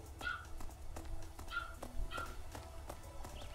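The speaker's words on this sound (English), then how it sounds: "If you hear barking in the background, that's actually one of my cousin's dogs." An old, loud chihuahua barks in the background of a home game stream, a few sharp yaps spaced out over a few seconds, fairly distant and moderate in level, with no one talking.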